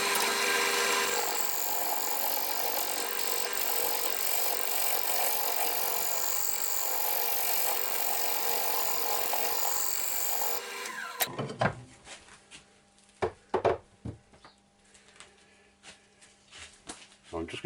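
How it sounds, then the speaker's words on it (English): A scraper trimming a piece of wood turning on a lathe, a continuous loud rasping scrape that runs for about eleven seconds and then stops, leaving quieter scattered knocks and handling sounds. "So I'm just trimming it up now with a scraper."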